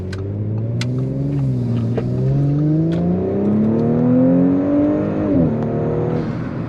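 Turbocharged gas car engine revving, its pitch climbing smoothly through a sustained rise and then dropping, loud and close with no talk.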